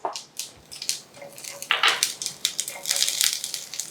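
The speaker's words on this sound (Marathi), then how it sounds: "चला, मोहरी छान चुटचुटायला सुरुवात झाली" Mustard seeds and cumin spluttering in hot oil for a tempering crackle and pop in rapid irregular bursts, close and fairly faint, with no talking.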